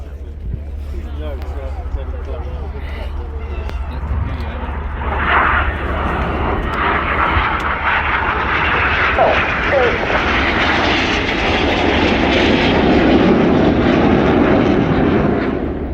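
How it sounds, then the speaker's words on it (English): Red Arrows Hawk T2 jets flying a formation display at RIAT, their engines roaring loud and sustained, swelling as they pass overhead, under a commentator's amplified voice. "Now crossing the middle, only 30 metres wingtip to wingtip, that's only 100 feet"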